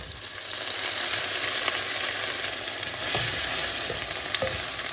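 Drained canned chickpeas hit a pan of frying butter and caramelised onion, setting off a steady, close sizzle with scraping stirs throughout.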